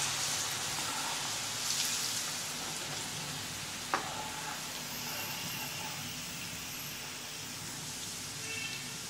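Fasting-style chiwda frying in hot oil over a high flame, giving a faint, steady hiss and sizzle like light rain, with one soft knock partway through.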